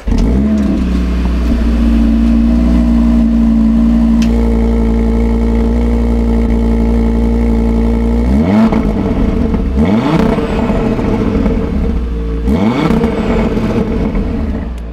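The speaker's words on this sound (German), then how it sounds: "der Motor oder der Auspuff hört sich natürlich auch noch besser an, wenn er warm ist" A cold five-cylinder turbo engine in a CUPRA Formentor VZ5 SUV idles steadily, then revs hard in several sharp bursts, each rising and falling in pitch, loud and close.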